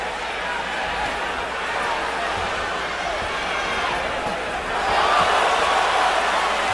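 A boxing arena crowd during the Sergio Martinez vs. Julio Cesar Chavez Jr. fight, a broad sustained roar that swells louder near the end, with commentary voices over it.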